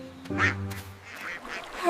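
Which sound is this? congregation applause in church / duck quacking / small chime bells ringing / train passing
duck quacking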